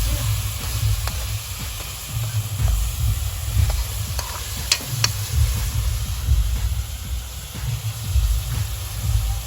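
Onions fry in a pan with a steady sizzle and hiss and occasional soft stirring scrapes, heard close up with no talking.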